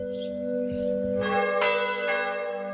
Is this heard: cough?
no